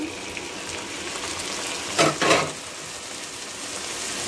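Broccoli and pasta with prawns fry in a pan. A soft, constant sizzle is broken midway by two quick stirring scrapes.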